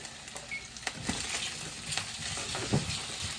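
Asparagus spears tossed in hot oil in a pan at medium-high heat, giving a steady soft sizzle with brief clinks and stirring scrapes throughout.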